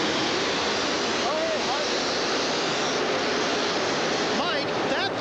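A 1997 monster truck at an Indianapolis indoor arena roars off the starting line, its engine noise a dense, continuous broadband roar that fills the whole span amid crowd and commentary.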